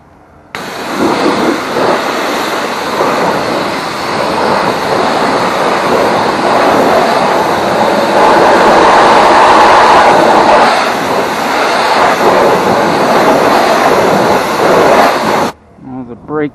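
A power washer blasts a steady, loud spray onto grimy car tires and rims caked with brake dust, a continuous broadband hiss running about fifteen seconds with shifting intensity as the jet moves across the rubber, then cutting off abruptly.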